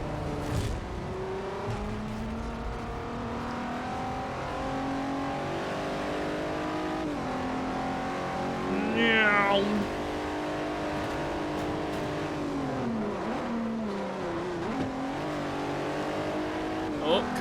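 A race car engine revs continuously while driving in Forza Motorsport 4, rising and falling through gear changes with a brief tire squeal, under intermittent commentary.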